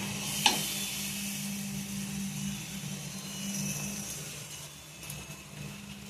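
A paste of ground yogurt, nuts, poppy seed and mustard sizzles steadily with prawns in a pan, a continuous close frying hiss with a brief clink near the start and no talking.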